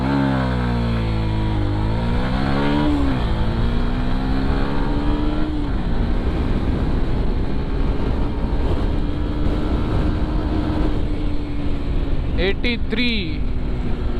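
A Yamaha FZS V3 BS6 motorcycle launches and accelerates hard, its engine note climbing through several gear shifts then holding a steady high-revving drone, loud and close over wind rush, with a brief burst of higher whine near the end.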